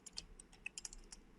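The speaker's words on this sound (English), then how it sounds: "I'm just typing inside" Fast, faint clicking of keys on a computer keyboard, a quick irregular burst of keystrokes close by with no voices.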